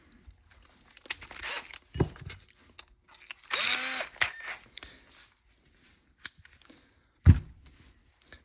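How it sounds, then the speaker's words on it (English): A power drill whirs in a brief burst of about a second, surrounded by scattered clicks, rustles and handling knocks in a quiet room. "I'm gonna grab my drill here."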